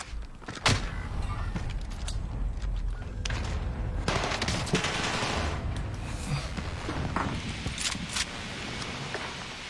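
Gunfire from a video game sounds as rapid bursts and single sharp shots, some close and loud, others distant and muffled, over a busy, noisy background.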